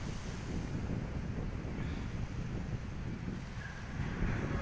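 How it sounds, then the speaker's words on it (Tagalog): Strong wind from an approaching typhoon roars and buffets the microphone at Manila Bay in a constant low rumble, with faint surf-like swells beneath and no voices. "So sa ngayon nakakaramdam po tayo ng malakas na hangin"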